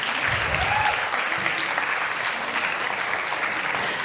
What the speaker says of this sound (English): One more round of applause for the incredible musicians.